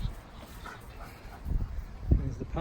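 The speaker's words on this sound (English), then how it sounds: "There's the puppies." Puppies in a garden yard give short yips and whimpers, with a couple of close, sharp bursts near the end over soft outdoor background noise.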